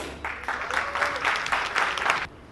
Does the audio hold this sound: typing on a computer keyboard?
no